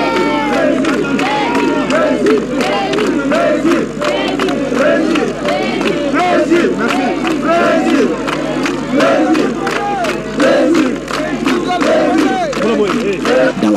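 A large outdoor crowd in Faranah, Guinea, greeting President Alpha Condé: loud, sustained cheering, shouting and whistling from many voices, with clapping mixed in throughout.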